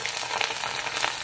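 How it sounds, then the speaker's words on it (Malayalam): Wayanadan Kaima biryani rice frying in hot oil with onions and ghee, a close, steady crackling sizzle with faint stirring scrapes and no voices. "അപ്പൊ അതിനൊന്ന് ശരിക്കൊന്ന് വറുത്തെടുക്കണം. ആ ഓയിലും ഉള്ളിയും ഗീയും എല്ലാം കൂടെ മിക്സായിട്ട്"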